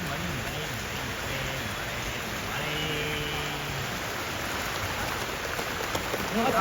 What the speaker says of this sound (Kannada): ಹಿಂಗೆ ನೋಡಿ ಫುಲ್ ಮಳೆ.